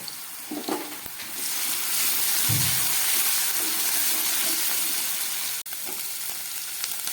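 Potatoes fry in hot oil in a pan, a loud, steady sizzle with a brief stir or clatter near the start and a sharp knock later, no voices.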